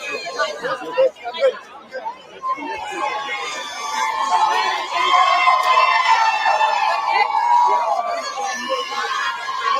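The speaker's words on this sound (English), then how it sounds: "there's a bigger crowd here than when Michael Jackson was on trial" A large crowd chatters outside a courthouse after the not-guilty verdict in the Karen Read retrial, a dense babble of many voices with occasional shouts and cheers, with nearby voices also talking.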